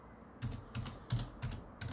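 Quick clusters of keystrokes are typed on a computer keyboard, close and crisp, in about five short bursts, with no talking.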